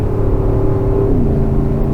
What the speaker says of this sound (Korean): 스포츠 모드로 바꾸는 순간 사운드가 달라졌죠.